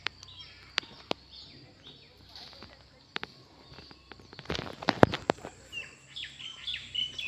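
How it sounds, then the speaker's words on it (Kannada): Birds chirp in a mango orchard in the morning, scattered tweets and calls at moderate distance with a few sharp clicks and rustles, busier toward the end. "ಹಕ್ಕಿಗಳ ಗಲಾಟೆ ತುಂಬ ಜಾಸ್ತಿ."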